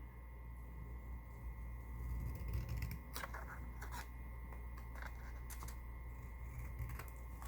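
Scissors snip and trim a paper cover for a Dollar Tree note pad, a few soft, close cuts and rustles over a steady low hum, with no talking.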